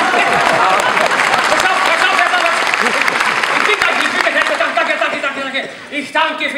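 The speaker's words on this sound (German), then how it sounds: "Man kommt herein und es ist tosender Applaus." Thunderous applause from an operetta audience at a summer operetta performance in Kufstein, dense sustained clapping with crowd murmur and chuckles throughout, thinning slightly near the end.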